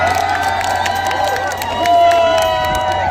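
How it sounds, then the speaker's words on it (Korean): Festival concert audience at an outdoor Gurye music festival applauding and cheering, a dense, sustained wash of crowd noise and clapping with shouts, loud and steady, swelling slightly near the end, with a held tone ringing underneath. "오늘 박수 많이 주셔가지고 고맙습니다"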